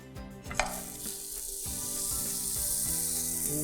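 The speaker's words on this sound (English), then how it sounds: "मैं क्विकली मेरी सैंडविच को फ्लिप करने वाली हूँ." Cheese and chocolate sandwich in butter, flipped in a hot pan, sounding as a clunk of the turn followed by a rising, steady frying hiss over faint rhythmic background tones, with no speech.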